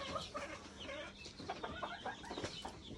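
Large grown chickens on a poultry farm cluck steadily and faintly, with overlapping calls from the flock and no talking.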